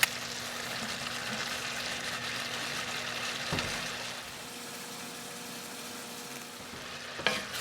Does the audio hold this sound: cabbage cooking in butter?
yes